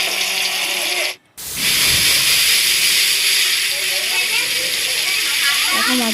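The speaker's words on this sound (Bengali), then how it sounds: "এখন মাছগুলো এখানে ভালো ভাজা হচ্ছে" Pangas fish fries in hot oil in a wok, giving a steady loud sizzle and hiss that briefly cuts out before resuming, with a faint clink of utensils near the end.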